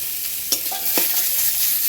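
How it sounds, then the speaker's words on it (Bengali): Chopped bottle gourd fries in a pan with cashews and raisins, for gourd payesh: a steady close sizzle with a few sharp scraping stirs and clinks over it. "একটু ভেজে নেবো ভালো করে।"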